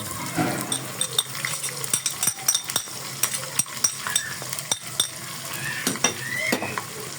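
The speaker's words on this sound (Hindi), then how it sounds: "ये सब चीज़ें हमने इसमें ऑयल में अच्छे से भून लेनी है।" Green chilli and ginger-garlic paste fry in hot oil for a gosht recipe, a steady close sizzle broken by repeated spoon scrapes and clinks against the pot.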